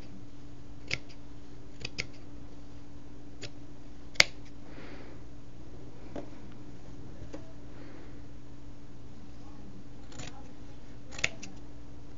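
Scissors snipping through fabric scraps being sewn into guinea pig pee pads, a few quiet, sparse clicks spread over a steady low hum.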